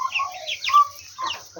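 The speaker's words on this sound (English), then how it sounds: "gotta go feed the chickens" Several chickens clucking and squawking at close range in a coop at feeding time, a busy overlapping chatter of short calls and rising squawks with no talking.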